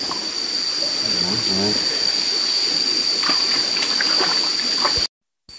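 A rain-swollen forest stream flows in a continuous close wash, with a few brief vocal sounds partway through and an abrupt cutoff near the end.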